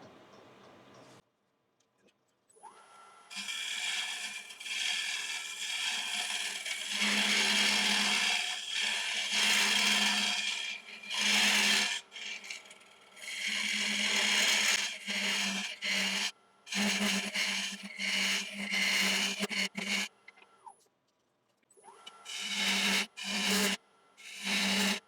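A gouge on a wood lathe cuts into a spinning yew log to shape an emerging vase. Moderately loud bursts of rough, scraping cutting noise alternate with short quiet pauses.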